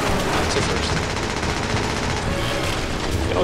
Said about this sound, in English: You got a Gatling gun